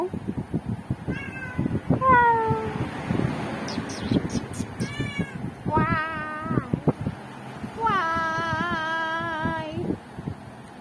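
A domestic cat meows repeatedly at close range, several drawn-out, rising and falling cries in a row with short pauses between them, set against faint background noise.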